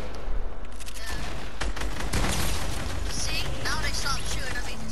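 Fortnite gunfire in a squad match, dense continuous bursts of shots and impacts filling the whole stretch, loud, with players talking underneath.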